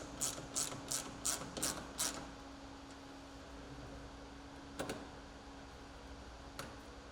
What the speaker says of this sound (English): Now, install 1 screw on each side of the dash and torque to specification.